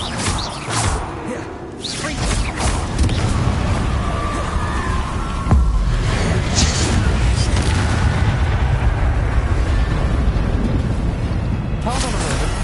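Bombarda spell explosion in Hogwarts Legacy: heavy booming blasts rumble and crash across the whole stretch, loud and continuous, with muffled voices mixed into the game noise.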